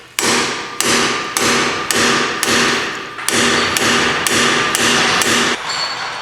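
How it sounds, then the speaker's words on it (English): Repeated hammer blows strike a hand impact driver to loosen the rotor screws on a 2003-2007 Honda Accord during brake work, about nine sharp metallic hits in a steady rhythm, loud and close, with no talking. "Using a hand impact, I'm going to just remove these rotor screws."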